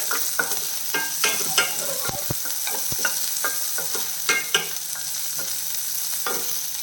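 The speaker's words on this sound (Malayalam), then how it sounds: "ഇതിൽ നമ്മൾ കട്ടി വെച്ചിരിക്കുന്ന ചെറിയ ഉള്ളിയും പച്ചമുളകും കുറച്ച് വെച്ചിട്ട് ഇതൊന്ന് വഴറ്റിയേക്കാം" Chopped shallots and green chillies sauté in a pan, a steady sizzle broken by frequent scraping and tapping of a spatula, close and moderately loud, with no voices.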